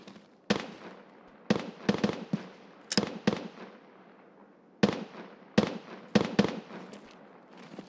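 Gunfire in Escape from Tarkov PVE, played as a USEC: sharp gunshots ring out singly and in quick clusters of two or three, loud and echoing with reverberant tails, spaced irregularly across the stretch without talk.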